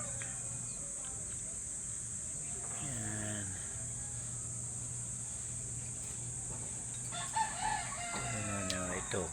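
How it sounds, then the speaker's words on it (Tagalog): An African bird kept as a pet gives two short, harmonic calls a few seconds apart over a steady high insect-like hum, fairly close and moderately loud. "Ibon ni Mario yan. African bird."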